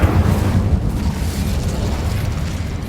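An Incendio fire spell goes off in Hogwarts Legacy, a loud, rumbling burst of flame with a booming low roar that stays heavy and continuous for the whole three seconds.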